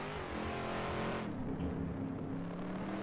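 A muscle car engine in a video game revs through harmonic tones, then drops and shifts as a gear changes, settling into a lower steady drone; loud and close, with no talking.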